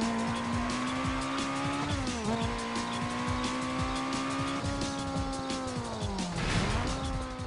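A customized, tuned car in a Need for Speed game drives hard with a loud, steady engine drone that dips and rises through gear shifts, while tires squeal and skid through turns.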